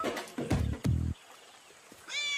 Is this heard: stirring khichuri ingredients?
no